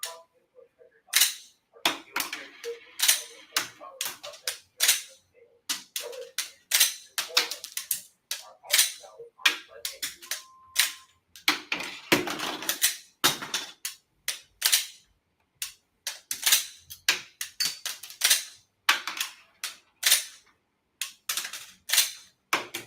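Pistol shots from police officers on a training range during reload and tap-rack malfunction drills, sharp cracks firing singly and in quick bursts, fairly distant and echoing, with gaps and faint talk between strings.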